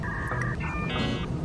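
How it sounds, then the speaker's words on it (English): A broken camera gives electronic beeps in quick succession, shifting pitch like short tones, over a steady low rumble of background noise. "my camera's broken, so sorry for the beeping."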